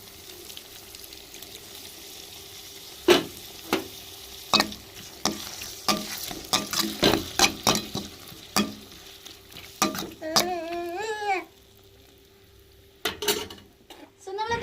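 Tomato, onion and ginger paste sautéing in a pan while squid cooks, with sharp repeated stirring and scraping knocks over a low sizzle, one gurgling bubbling stretch near the end, close and fairly loud.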